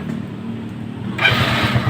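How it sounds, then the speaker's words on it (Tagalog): A motorcycle engine is started during a workshop check of a voltage regulator on a bike whose lights keep burning out; a low idle hum jumps into a louder, steadier running rumble partway through, close by, with no talk. "sige sir paanda rin mo itong motor"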